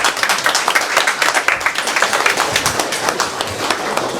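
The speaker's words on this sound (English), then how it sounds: "Give her a round of applause for Aidan Arnold." An audience claps throughout at a heritage storytelling event in Lusk, a dense, close round of applause with individual hand claps audible in quick succession.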